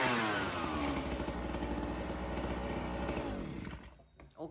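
A large-bore two-stroke brush cutter engine running at high revs, loud and close, with a steady buzzing drone that holds for about four seconds before the throttle drops and it sputters down near the end.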